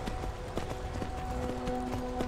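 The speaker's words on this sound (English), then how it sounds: "you gotta be like super delicate with the controls with the horse on this" Hooves of a horse in the video game Skyrim galloping in quick, irregular clip-clop beats, fairly faint, over a soft game backdrop with a steady tonal hum.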